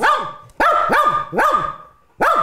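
A dog barks loudly and close by in four sharp, evenly spaced barks, with a short gap before the last, during an indoor dog board-game activity.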